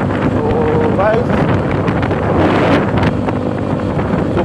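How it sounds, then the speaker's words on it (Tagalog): Strong wind roars and buffets the microphone throughout on a boat trip near Treasure Island, Bohol, with a steady loud rush; a voice briefly speaks early on. "sobrang lakas ang hangin"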